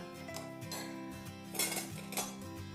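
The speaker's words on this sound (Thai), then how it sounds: "เปลี่ยนช้อนดีกว่า" Spoons clink against glass and ceramic dishes as they are swapped while tasting affogato, a quick series of close, bright taps and chinks over faint background hum.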